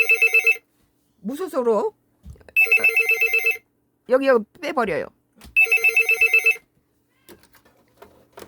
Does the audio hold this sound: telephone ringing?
yes